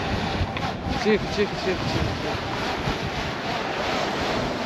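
Wind blows hard over the sea near the coast, buffeting the microphone in a continuous rumbling roar with surf underneath, while a voice speaks briefly over it.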